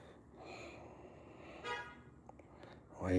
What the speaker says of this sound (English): Why are you honking your horn, brother?